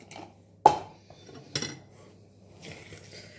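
Beaten eggs with vanilla are stirred into a chocolate brownie mixture in a bowl: two sharp clinks of a utensil against the bowl, then soft scraping, close and fairly quiet.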